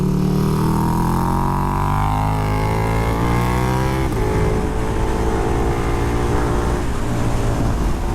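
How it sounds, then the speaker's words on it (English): KTM 1290 Super Duke R, a 2020 Super Stock prepared motorcycle, lapping a race track: loud onboard engine note climbing steadily through the gears, a shift near the middle, continuous and close with wind roar and no talk. "This one I'm riding is the Super Stock prepared bike."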